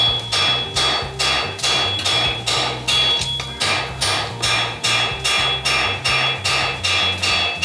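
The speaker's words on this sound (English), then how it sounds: "We'll come to the edge of the anvil, turn our hammer in our hand." A blacksmith strikes a steel bar on the edge of an anvil with a hand hammer, sending out a steady run of about seventeen loud, ringing metallic blows at an even rhythm, close up and with no talk.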